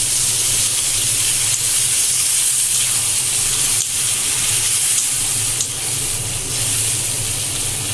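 Water streams into a pan of spicy Bengali tatkini fish curry with vegetables, a steady loud hiss and splash that runs unbroken and close up for the whole stretch.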